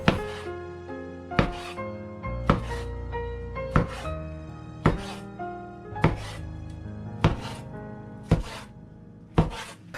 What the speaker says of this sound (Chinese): 用刀分割成2厘米宽的小剂子